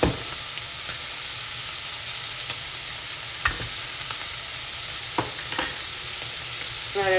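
Scallops sear with bacon in a pan of melted butter, giving a steady, close sizzle throughout. A few faint utensil clicks land over it, with no talk.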